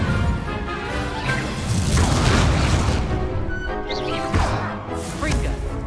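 Incendio fire spell cast in Hogwarts Legacy combat gives deep booming bursts and crashing whooshes, several in a row, loud and dense, mixed with other spell effects and game noise.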